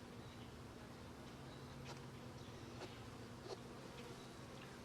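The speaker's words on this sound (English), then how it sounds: "There's lots of bees on the lid there" Honey bees buzz steadily around a removed hive lid where they are building comb, a continuous close drone with a few brief louder passes.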